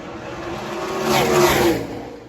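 NASCAR race cars rev and roar at a racetrack, one loud engine swelling past in a brief surge that peaks and fades, with no talk over it.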